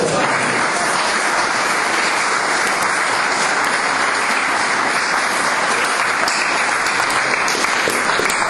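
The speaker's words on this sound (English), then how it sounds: "I think he deserves a round of applause for that." Sustained audience applause after a heavyweight champion is honoured at a Lesmahagow gathering, a dense steady clatter of many hands filling the room for several seconds without pause.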